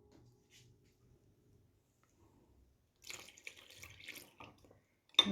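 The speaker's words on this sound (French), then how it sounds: "Et je vais venir y incorporer le lait. Hop, les 2 verres de lait." Two glasses of milk pour into coconut doughnut batter in a well made in the dough. After a near-silent start comes a couple of seconds of soft splashing and glugging liquid, ending with a sharper splash.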